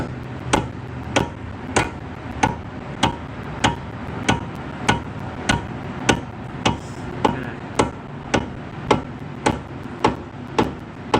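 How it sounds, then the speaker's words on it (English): Rubber hammer knocking repeatedly on a car part near the steering, about twenty evenly spaced sharp thuds close by, steady and moderately loud with no talking. "use my rubber hammer there to move that out of the way just a little bit"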